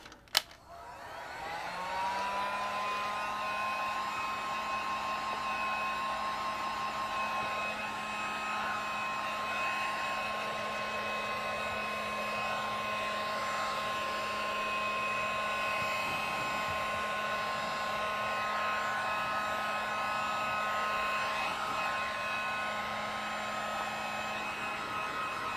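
A hair dryer blows steadily and loudly throughout, drying ink on collage cards for artist trading cards, with a constant whirring hum and tonal whine after a brief click at the start.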